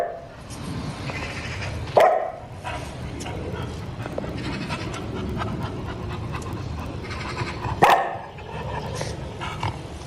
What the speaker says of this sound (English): there's the dog having a look at all the matches